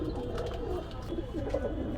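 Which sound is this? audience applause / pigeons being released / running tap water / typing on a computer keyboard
pigeons being released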